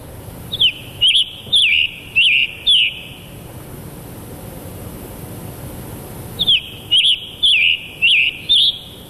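A recorded Scarlet Tanager song played back in a lecture hall: two loud runs of five or six hoarse, robin-like whistled phrases in quick succession, separated by a few seconds of quiet room hiss.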